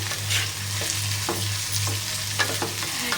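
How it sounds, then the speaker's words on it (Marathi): Peanuts frying in oil at the start of a potato bhaji, a crisp steady sizzle with scattered light stirring scrapes and a low background hum, close by. "शेंगदाणे छान असे परतले जातात सुरुवातीला तेलामध्ये."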